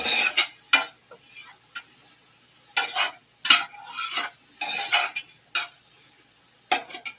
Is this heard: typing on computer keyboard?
no